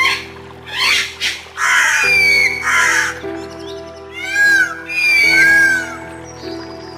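Harsh, loud cawing calls from several large wild birds circling over a lake, coming in repeated bursts with short gaps, some rising and falling in pitch.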